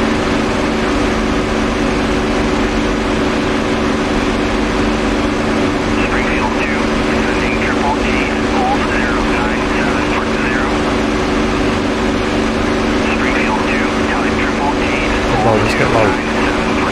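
Piston aircraft engines roar steadily at full throttle during a low-level railyard bombing run in DCS World, a loud continuous drone with light radio chatter faintly underneath.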